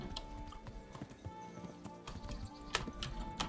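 Horse hooves clip-clop at a gallop in Kingdom Come: Deliverance, a quick rhythmic pounding with occasional louder strikes, fairly faint and steady across the ride.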